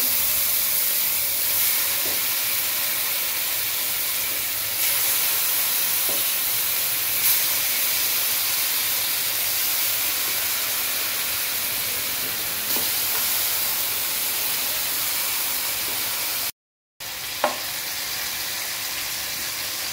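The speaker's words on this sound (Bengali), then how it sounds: "বাটারের মধ্যে এগুলো ভেজে নেবে একটু।" Steady, loud sizzling hiss of food frying in butter, continuous for the whole stretch with a brief gap near the end and no talking.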